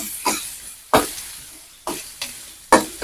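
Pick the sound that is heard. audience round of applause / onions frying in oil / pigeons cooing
onions frying in oil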